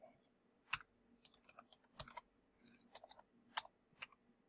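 Someone types on a computer keyboard in quiet surroundings, a sparse, irregular run of crisp key clicks with short pauses between them.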